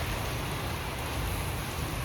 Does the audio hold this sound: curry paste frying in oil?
no